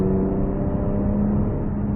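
Loud, continuous exhaust drone from a 2019 Infiniti Q60 Red Sport 400 AWD coupe under throttle, holding a fairly even pitch with slight wavering throughout and no voices.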